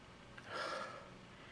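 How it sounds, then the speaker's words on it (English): One quiet, close sniff as someone inhales the aroma of a Wake Up The Dead beer from Left Hand Brewery, a short breathy draw alone in a still room. "Yeah, I don't want to sniff this anymore."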